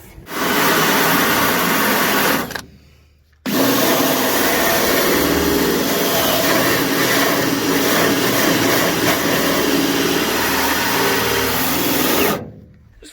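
An angle grinder whines loudly against the metal body of a rolled Duramax truck, a harsh continuous grinding that stops briefly near the start, resumes for a long stretch, then cuts off at the end.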